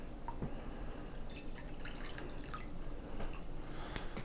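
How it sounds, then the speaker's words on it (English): A submersible LED light is lowered into a small container of water, giving soft drips and gentle sloshing over a steady low background hiss, with no talking. "let's go ahead and dunk our submersible light in here"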